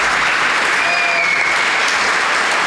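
Steady, dense applause from a studio audience at a Portuguese comedy show, sustained and loud throughout with no pauses.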